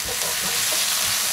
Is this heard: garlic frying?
yes